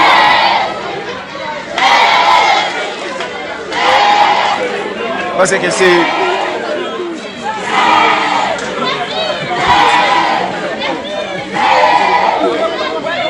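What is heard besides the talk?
large crowd shouting around a pastor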